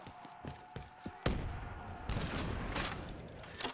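Grenades thrown and exploding in Black Ops 3 Zombies, a few light thumps followed by a loud sustained burst of blasts and crackling game noise that fills the rest of the moment.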